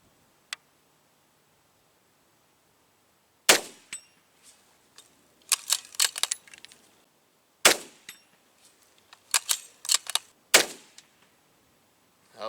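Rifle shots fired outdoors in a quiet setting, several sharp cracks followed by clanging rings of steel targets, with long silent gaps between bursts.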